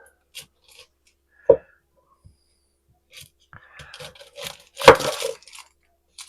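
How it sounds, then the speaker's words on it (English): Vidalia onions cut on a board give a few sparse knife taps and thuds, with one sharp chop early and a louder cluster of cuts near the end, all close and quiet between. "A couple of these Vidalia onions. We're just going to cut it and"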